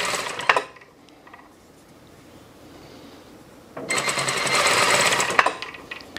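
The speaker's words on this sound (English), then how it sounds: "I'm again gonna sew from the wrong side because I just find it to be so much easier." A home sewing machine runs in two bursts while stitching the folded hem of a cotton summer shirt, sewn from the wrong side; a short whir comes first, then a longer steady run after a quiet pause.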